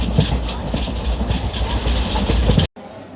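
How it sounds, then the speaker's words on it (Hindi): A passenger train on the Delhi to Jaipur route rolls along at Rewari Junction with a steady, loud clatter of wheels and carriage rumble, its rhythmic clicking continuing until the sound cuts off abruptly near the end. "ये रेवाड़ी जंक्शन, इस समय ट्रेन ठहरी हुई है हमारी"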